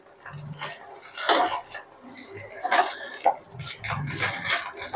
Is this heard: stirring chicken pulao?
yes